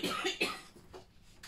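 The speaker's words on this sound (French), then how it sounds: "mais il va falloir que je tousse." A few short, close coughs in quick succession, fairly soft, followed by a fainter final cough.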